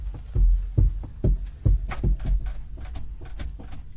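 An apartment building door being tried and found locked: a series of dull knocks and rattling thumps from the handle and frame, close and uneven, with no one speaking.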